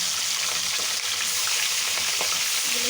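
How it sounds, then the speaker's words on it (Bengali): Hilsa fish heads, salted and coated in turmeric, fry in hot oil with a steady, dense sizzle and crackle that holds close and even throughout, with no voices. "এখন মাছের মাথাগুলো ভেজে নেব।"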